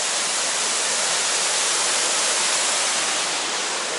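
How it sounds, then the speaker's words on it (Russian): An artificial waterfall beside a lake in a Curitiba city park gives a steady, close, even rush of falling water that holds unchanged throughout, with no voices. "Отсюда плохо видно, вот здесь это искусственный водопад."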